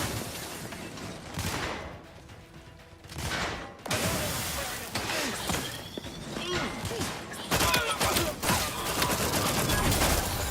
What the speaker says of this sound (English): The mech's shooting at me?